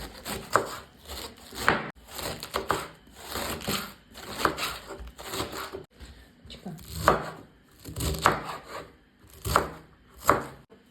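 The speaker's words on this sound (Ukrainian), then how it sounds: "Беру молоду капусту 500 грам та нарізаю її тоненькими смужками" Repeated knife strokes slice young cabbage into thin strips on a board, coming in quick clusters of crunchy cuts separated by short pauses.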